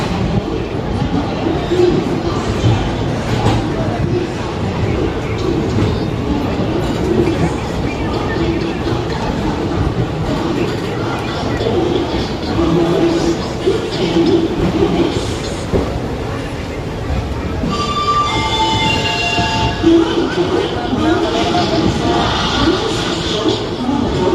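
Aboard the Basava Express running from Yeshwantpur toward Mysore, a steady loud rumble of train wheels and carriage noise continues throughout, with faint voices in the background and brief higher screeches near the end.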